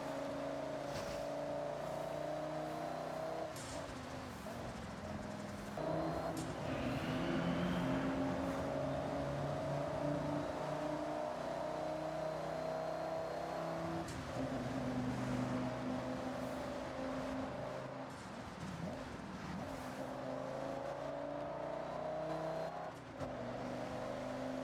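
An Audi RS6 C6 with a V10 engine driving through tunnels on a mountain road. Its steady droning engine note is reflected off the walls and holds for the whole stretch with slight rises and falls, without talk.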